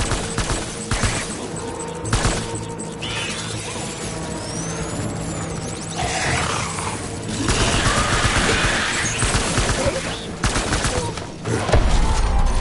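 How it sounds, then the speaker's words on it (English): Gunfire in the video game Death Stranding: bursts of sharp shots and rattling volleys crackle across the scene, with mechanical clanks and a brief voice mixed in. "Taking fire."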